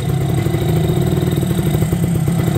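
A 1985 Yamaha Tri-Moto 125 three-wheeler's small engine pulling away, a loud, close, steady buzzing putter with rhythmic clatter throughout.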